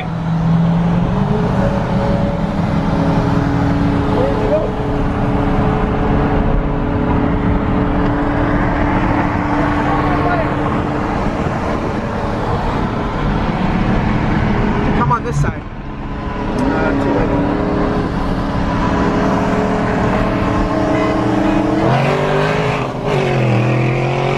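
2020 Dodge Charger Hellcat racing a Ford Mustang Shelby at night, with sustained engine roar building and shifting, a sharp burst midway, and people talking over the car noise.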